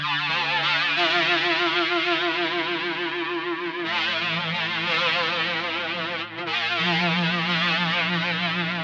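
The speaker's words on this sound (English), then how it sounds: "We can turn that delay ratio back a little bit to hear a bit more of the dry signal" Sustained tone run through a delay effect blended with the dry signal, giving a loud, continuous swirling phaser-like shimmer with wavering, comb-filtered texture and a couple of brief shifts in pitch.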